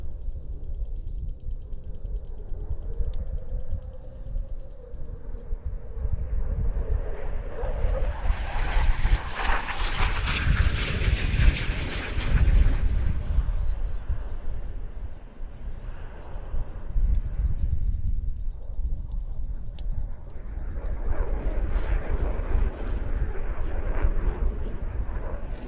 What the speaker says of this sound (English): That concludes the German Air Force Eurofighter EF2000 solo display.